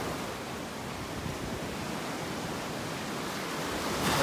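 Small waves break on a beach in North Naples, Florida, a steady, even wash of surf noise from a short distance, rising slightly at the end, with no speech.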